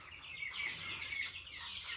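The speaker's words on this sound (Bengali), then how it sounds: "এখানে কিছু মুরগি আছে যারা কিচিমিচি করতেছে কেন আওয়াজ করতেছে" Chickens clucking and chattering softly at night near goats on a small farm, a steady, continuous murmur of overlapping calls with no talking.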